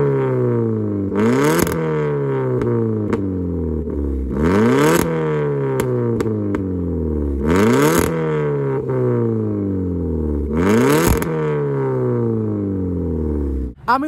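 A loud modified car engine revs up repeatedly, rising in pitch each time with a rough, throaty tone, four strong revs between idling stretches.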